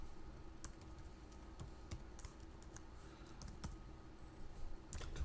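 Fingers tap out a line on the small keyboard of a 6502 40th anniversary badge kit, a quick uneven run of light plastic key clicks close to the microphone, with no talking.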